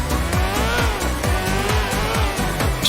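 A motorcycle engine in GTA 4 drones continuously with a rising and falling revving pitch throughout, loud and close.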